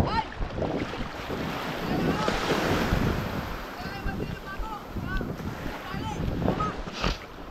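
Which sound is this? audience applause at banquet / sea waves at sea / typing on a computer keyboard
sea waves at sea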